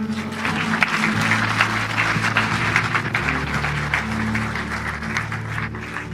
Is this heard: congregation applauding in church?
yes